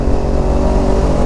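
A motorcycle fitted with a DX Generation aftermarket exhaust holds a loud, steady high-RPM rev, a close buzzing engine drone with no speech.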